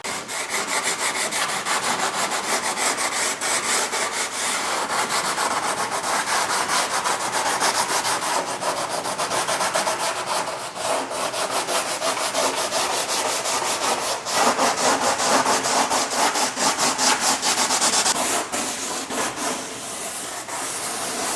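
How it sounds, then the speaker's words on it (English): A car's front wheel well edge is hand-sanded with 80 grit sandpaper, the close, steady rubbing strokes running continuously for about twenty seconds with no voices. "you're going to want to grab some 80 grit sandpaper, smooth out the edge,"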